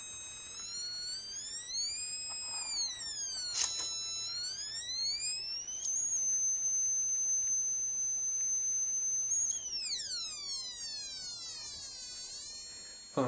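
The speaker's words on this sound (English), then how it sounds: "that sound is just from the vibrations of the wires and on the cylinder" Wires on a cylinder-wound Rodin coil built from a tuna can vibrate under DC square wave pulses, giving loud, steady high-pitched electronic whines that sweep up and down in pitch, with a held tone in the middle.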